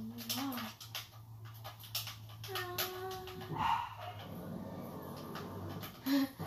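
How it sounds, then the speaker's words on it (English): A dog whimpers in high, wavering whines with short yelps mixed in, fairly faint and close, over a low steady hum with some talk nearby. "My dogs."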